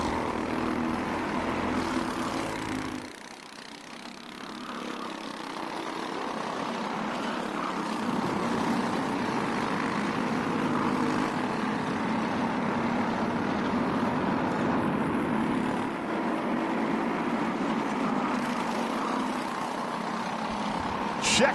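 Race vehicles' engines roar continuously around the track at Adams Motorsports Park during a winter league race, a loud, steady drone with a brief dip early on before swelling again.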